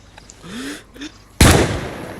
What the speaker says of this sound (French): Pourquoi t'as tiré?